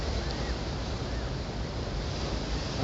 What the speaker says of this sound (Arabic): أمواج عالية جدا